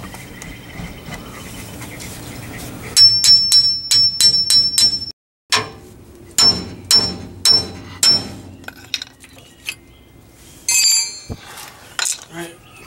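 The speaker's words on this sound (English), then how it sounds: "Take your pickle fork, shove it in there, and let's break it loose." Repeated sharp metal hammer strikes on a pickle fork driven in to break loose the kingpin on a Ford F100, landing in quick bursts of ringing clanks with short pauses, loud and close, with a little background talk.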